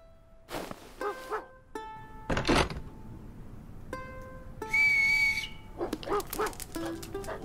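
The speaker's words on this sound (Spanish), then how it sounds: "Ese es mi perro Toby." A pet dog barks in a few sharp, separate bursts, mixed with clear whistle-like tones and short musical notes, with no talking.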